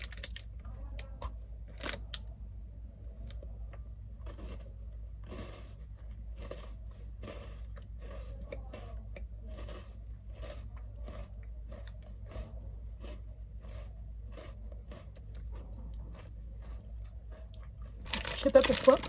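Someone bites and chews a caramel-filled chocolate biscuit, giving a steady stream of small crunchy, crinkly bites at an even pace, close and fairly quiet over a low constant hum, with a louder rustle at the end.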